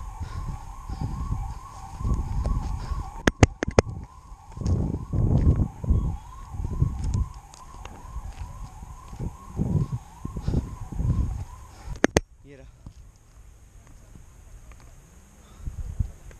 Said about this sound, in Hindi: it's ambulance